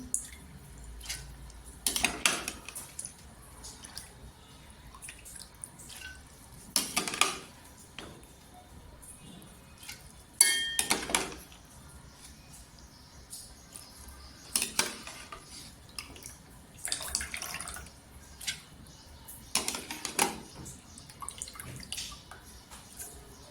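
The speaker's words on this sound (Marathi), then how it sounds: "चम्मचच्या साह्याने अशी पाण्यातून डाळ काढून घ्यायची" A spoon scoops soaked lentils out of a bowl of water for dahi vada, quiet bursts of metal clinking and wet scraping separated by near-silent pauses.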